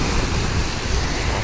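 Rough sea waves wash onto the shore at Side, Turkey, a steady broadband roar of surf with some wind buffeting the microphone.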